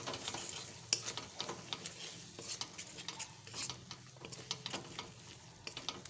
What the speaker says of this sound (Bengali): আবারও কিছুক্ষণ ধরে আমি কাজু আর পোস্তর পেস্টটা একটু কষে নেবো